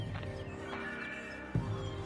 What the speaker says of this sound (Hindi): ये तो मेरा घोड़ा है।